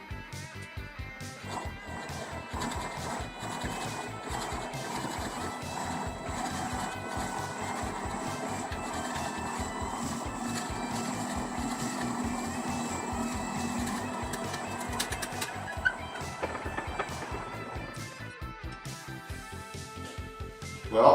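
A drill press turning slowly at 100 RPM feeds a 1/2 inch bit through wood, a steady low mechanical whir with rapid regular ticking pulses that fades near the end.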